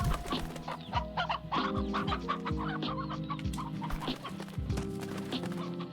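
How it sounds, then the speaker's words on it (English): Chickens cluck and a rooster calls in the Slime Rancher video game, a busy chorus of close, overlapping clucks and cackles that runs without pause. "And a rooster."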